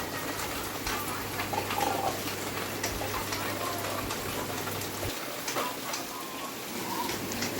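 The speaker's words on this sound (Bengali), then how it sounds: "আর এদিকে দেখো সকালবেলায় বৃষ্টি শুরু হয়ে গেছে।" Morning rain falls in a steady, even patter, with faint bird calls now and then.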